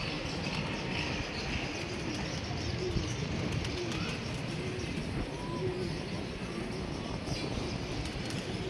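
Pigeons, including a red Badshah bird, cooing softly amid a dense outdoor background hum and rumble, with faint intermittent coos and a voice murmuring at times.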